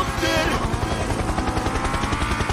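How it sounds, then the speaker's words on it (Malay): A helicopter in the video game GTA, a loud, steady, rapid rotor thump that fills the whole clip, with dense game noise layered over it. "Helikopter, helikopter."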